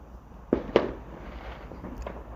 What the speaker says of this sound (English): today it's Bonfire Night, so we're gonna listen to fireworks